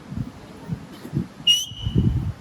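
A coach's whistle gives one short, sharp blast at a kids' football training session, with faint voices and light movement around it.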